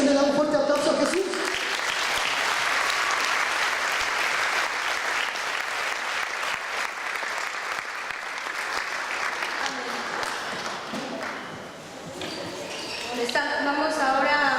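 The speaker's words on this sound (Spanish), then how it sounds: "le dan un fuerte aplauso a Jesús" A church congregation at a Sunday service claps steadily for over ten seconds, loud and sustained, with a voice briefly audible at the start and end.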